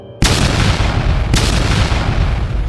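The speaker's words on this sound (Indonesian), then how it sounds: "Ledakan energi merah menghantam tenda, menghempaskan tanah dan kain dari tulang" Two booming blasts of red energy strike a tent, the first loud burst bursting in sharply after a brief hush and a second impact following about a second later, both trailing into a dense, rumbling roar.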